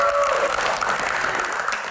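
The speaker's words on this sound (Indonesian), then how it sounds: "tepuk tangan dong" A crowd of community members at an indoor talk-show event claps steadily and densely, a loud, even wash of applause with no pauses.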